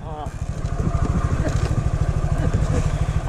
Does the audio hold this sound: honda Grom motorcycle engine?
yes